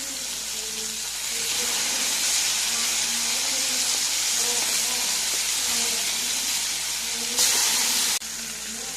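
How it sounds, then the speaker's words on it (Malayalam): Tiger fish frying in hot oil with curry leaves and fenugreek gives a steady, close sizzle and hiss that continues without pause, with a brief louder burst of spitting near the end. "നമുക്കിതൊന്ന് നന്നായിട്ട് പൊരിച്ചെടുക്കാം."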